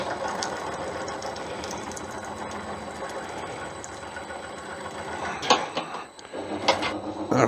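A lathe drills through a plastic shop mallet with a steady close-up mechanical whir and a faint high whine, followed by a few sharp clunks and knocks at the end.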